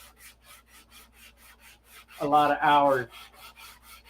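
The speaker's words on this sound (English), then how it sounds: "doing just this, detail sanding" Fine detail sanding on a P-47 model fuselage, heard as a steady run of soft, quick rubbing strokes in a regular rhythm, briefly covered by a voice midway.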